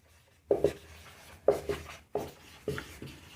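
Chalk tapping and scratching on a classroom board in four quick bursts of short strokes, close and distinct, with no talking.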